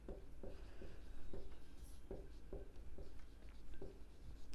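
Marker or chalk writing on a board during a maths lesson, a steady series of short rhythmic strokes and taps, close and clear, with no talking over it.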